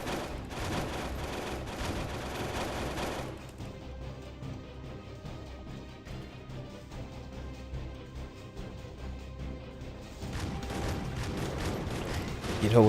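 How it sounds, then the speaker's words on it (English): Crossbows firing in the video game Strike Force Heroes 3, a dense clatter of rapid mechanical shots and impacts that drops briefly into quieter action before the barrage returns, loud, with some talking mixed in. "These are some loud crossbows that we got"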